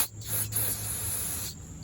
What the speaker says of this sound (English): I just spray it onto paper towel